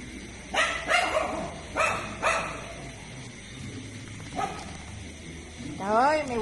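Several pet dogs bark in short separate bursts, fairly close, with a whimpering whine near the end and quiet background noise between barks.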